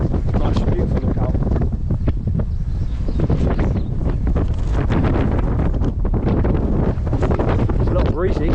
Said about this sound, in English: It's a little breezy indeed.